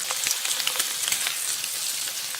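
Sous vide pork chops searing in a hot pan, a steady close sizzle and crackle running continuously with no talk over it.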